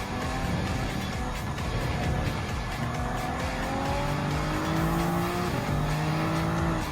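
Race cars roar and jostle for the lead during an overtake in Gran Turismo 7, with dense, loud engine noise and rising gear-shift tones filling the whole stretch without pause.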